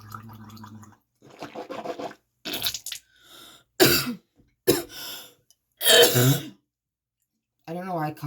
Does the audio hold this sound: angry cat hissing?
no